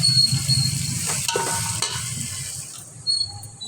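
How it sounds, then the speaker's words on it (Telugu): Tomatoes and onions fry in a pan with a steady sizzle, while a utensil stirs and scrapes the mixture now and then, close and moderately loud, with no talking. "టమాటోస్, ఆనియన్స్ అంతా కొంచెం మగ్గాలండి"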